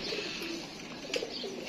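A pigeon coos softly in a few low, rounded calls amid faint background hiss and a brief chirp, close but quiet.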